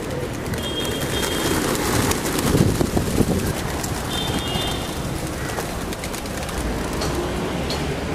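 Pigeons in Mumbai coo softly amid a dense, noisy outdoor wash, with faint bird calls rising through the steady background.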